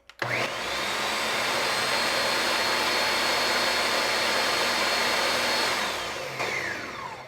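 A Ninja Foodi kitchen mixer runs loudly with a steady, high-pitched whirring motor that starts abruptly, holds constant for several seconds, then winds down near the end, with no voices.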